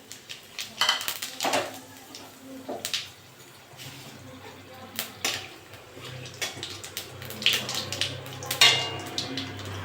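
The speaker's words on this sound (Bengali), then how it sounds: "ওই তেলে আমি দুটো শুকনো লঙ্কা আর জিরে দিয়ে দেবো" Dried red chillies and whole cumin seeds frying in hot oil left over from frying tilapia, giving scattered sizzles and crackles with clinks of a pan and utensils throughout.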